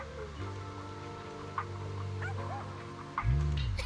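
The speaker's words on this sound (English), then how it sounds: "You're trying to win over a puppy with treats and toys." A puppy in the Zenless Zone Zero game gives short yips and whimpers, with a louder bark-like burst near the end, over a soft sustained musical background.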